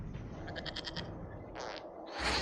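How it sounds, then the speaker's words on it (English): Goat bleats from the Dragon Age Inquisition video game, a short series of wavering cries followed by a second bleat and a final louder one over a steady game ambience. "we discovered this man attacking the building with a goat."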